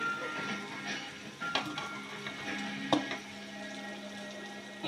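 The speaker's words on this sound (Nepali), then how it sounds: "अब चाहिँ भात हालिदिन्छु यसमा।" Cooked rice tipped into a hot pan sizzles and crackles steadily while being stirred, with a few sharper scrapes and clatters breaking through the continuous frying hiss.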